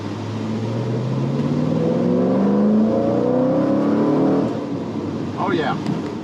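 A twin-screw supercharged 2010 Chevrolet Camaro 2SS with a manual gearbox accelerates hard, its engine note climbing steadily for several seconds before easing off, with a voice talking over the loud cabin drone.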